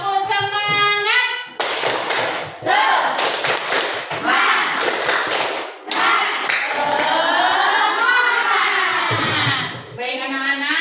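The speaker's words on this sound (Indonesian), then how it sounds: "Oke, kita tepuk semangat ya." A classroom of children doing an Indonesian rhythmic spirit clap, loud bursts of group clapping in a patterned rhythm mixed with chanting voices, close and lively throughout.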